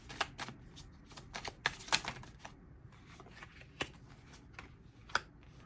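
Tarot cards are shuffled and drawn in quick, uneven bursts of dry flicking and tapping, close and soft, trailing off into sparser clicks with a faint low background rumble.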